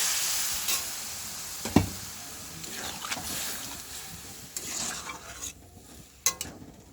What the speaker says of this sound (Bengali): হালকা নাড়া হয়ে গেছে, এবারে সবজিগুলো ভাজা ভাজা হয়ে গেছে হালকা